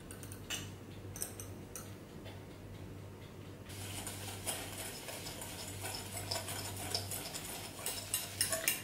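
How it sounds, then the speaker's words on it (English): Egg yolks, granulated sugar and flour being stirred together in a bowl, a steady close scraping and ticking of a utensil against the bowl with a constant low hum underneath, growing busier partway through. "we'll be mixing eggs and sugar"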